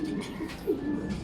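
Racing pigeons at a training toss in Candelaria, Quezon coo close by in short repeated bursts, with a faint bit of background movement between calls.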